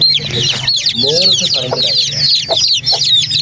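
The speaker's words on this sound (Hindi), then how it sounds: "इसकी माँ ने इतने सारे चूजे निकाले हैं, असील चूजे सारे, छोटे छोटे असील चूजे" Aseel hen with a brood of small chicks, close by: dense, continuous high peeping from the chicks over the hen's low, repeated clucks, with brief talk mixed in.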